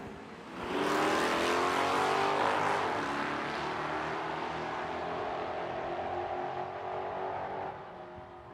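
A 2022 Chevrolet Corvette launches down a drag strip at an Edmonton drag racing event, its engine roaring up loud and hard, then holding a strained high note before easing off as it pulls away, with no voices.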